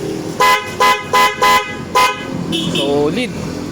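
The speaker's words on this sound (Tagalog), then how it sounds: "Check natin yung ano. Malakas yung busina." Five loud honks from a GStar Horn V1 motorcycle horn in a quick uneven series, then a short second tone with people talking in the background.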